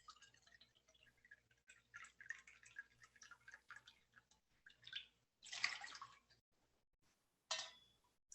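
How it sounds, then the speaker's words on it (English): Water is poured into pots on an induction cooktop and an electric cooktop, scattered close drips followed by two short splashing pours. "I will visually pour 2 cups of water into each"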